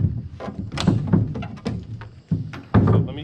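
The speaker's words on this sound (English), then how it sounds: "bang the nails in" Nails being banged by hand into a wooden stud during a money-saving building project, a series of loud, close, irregular thunks and knocks with short gaps between blows.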